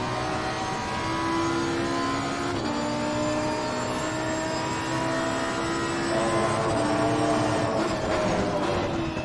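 A race car engine in Assetto Corsa Competizione drones steadily at high revs, with a gear change partway through and a sustained loud whine that continues without pause.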